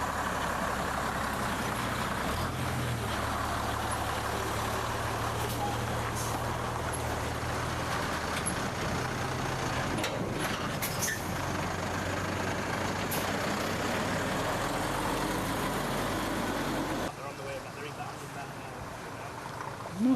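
A Leyland and then a Volvo truck roll past one after another in a convoy of heavy trucks, a continuous loud engine roar with low rumbling that drops away near the end.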